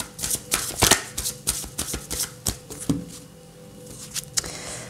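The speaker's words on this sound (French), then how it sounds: "Alors on va quand même prendre 3 cartes ici." Tarot cards shuffled by hand in a rapid series of crisp riffling flutters and soft slaps, close and fairly quiet, with brief pauses between bursts and no talking.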